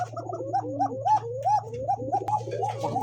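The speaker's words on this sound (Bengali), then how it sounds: "আজকে যে কবুতরে যে ডাক রে ভাই" Pigeons coo in a rapid series of rising, warbling calls close by, over a low steady hum, with no talking; the birds include desi and foreign racer, satin and similar fancy breeds.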